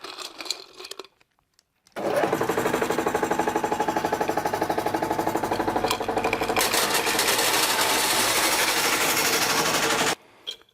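A M&W JAWO jaw crusher breaks iron sinter pieces of 10 to 50 millimetres, a loud, rapid rhythmic clatter and grinding that runs for about eight seconds before stopping abruptly, with quiet mechanical noise before and after.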